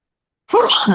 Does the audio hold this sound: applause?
no